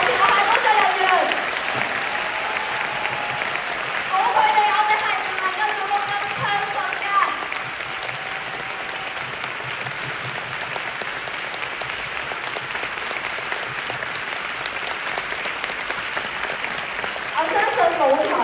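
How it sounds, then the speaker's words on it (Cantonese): A theatre audience gives the front-of-stage crew sustained applause, a broad wash of clapping that fades and rises again, with a voice speaking over it at points. "希望你哋可以俾熱烈嘅掌聲，"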